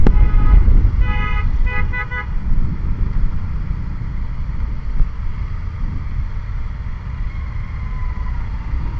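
Roadside traffic jam with approaching rain, a steady low engine rumble and wind noise, with a short run of car horn toots near the start.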